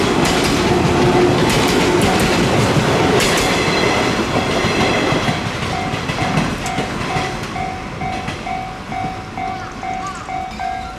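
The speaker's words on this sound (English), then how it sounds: "maybe the train is gonna pass by any minute now" An old train passes on a railway through a quiet Japanese seaside town, loud rumbling and clickety-clack of wheels close by, fading gradually as it moves away, with a repeating bell-like tone near the end.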